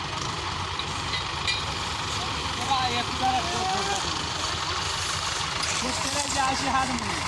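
Heavy diesel engines of four tractors pulling and pushing rumble steadily throughout, a continuous low drone with faint mechanical whine rising and falling, voices faintly mixed in.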